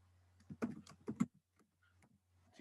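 Quiet, close keystrokes on a computer keyboard in a short burst of taps, then a pause and a final tap, alone over a faint steady hum.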